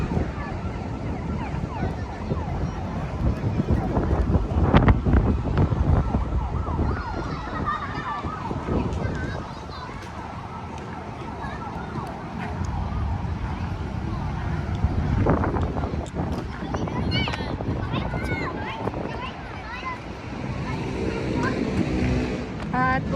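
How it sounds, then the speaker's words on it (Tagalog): Strong wind gusts buffet the microphone at Dolomite Beach on Manila Bay, a loud, rumbling roar that rises and falls beneath someone speaking throughout. "grabe ang lakas ng hangin"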